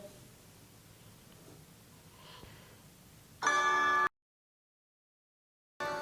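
Game chimes and jingles from Candy Crush as it loads on a Vivo V23e phone with Helio G96: a bright, tonal burst of about half a second, then silence, then the chimes start again, set against faint room noise.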